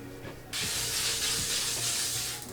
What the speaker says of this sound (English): I can spray my face with my hair down